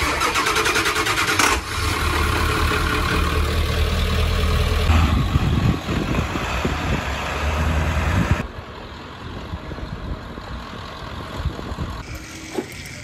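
A camper van, fuel tank being filled in Mexico, has its engine start and run at a steady loud idle for about eight seconds, then the rumble drops abruptly to a quieter, more distant hum with small knocks.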